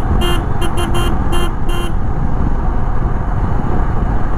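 Road traffic at Gajuwaka in Visakhapatnam: a quick run of short car horn toots fills the first two seconds, then a steady, close roadway rumble carries on alone.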